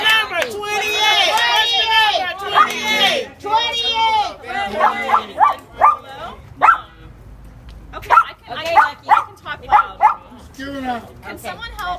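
A dog barks repeatedly and loudly in rapid, excited bursts, with yips and whines in between and speech babble around it.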